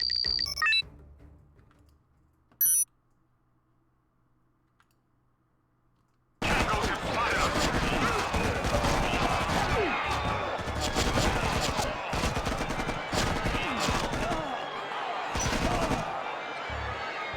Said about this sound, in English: Task force, fire at will!